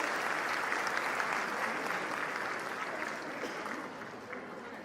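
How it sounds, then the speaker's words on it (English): An audience at a school annual prize distribution ceremony claps steadily and densely, and the applause fades slightly over about five seconds. "Please a huge round of applause."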